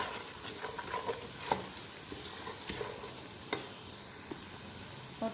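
Shalgam gosht with salt and turmeric is stirred in a sizzling pan, with steady frying hiss and occasional scraping knocks of the spoon.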